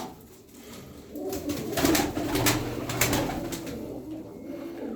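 Several tumbler pigeons of a performance-flying breed coo together in a loft, soft low throaty calls overlapping and swelling midway, close and steady with no talking.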